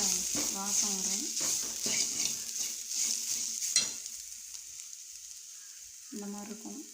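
Rasam ingredients being stirred and fried in a pan, a steady sizzle with scraping stir strokes, a voice speaking over it in places.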